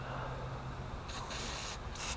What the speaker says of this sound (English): I did spray these chains a bit.